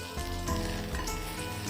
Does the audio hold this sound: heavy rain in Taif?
no